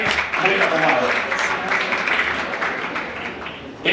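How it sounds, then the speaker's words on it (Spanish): An audience at a Spanish Advertisers Association event applauds in a dense, steady burst of clapping with voices mixed in, easing slightly toward the end of the short stretch. "Un aplauso para vosotros"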